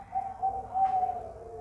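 A zebra dove (perkutut) gives a soft, close, sustained coo with a few pulsing notes, heard alone against quiet background.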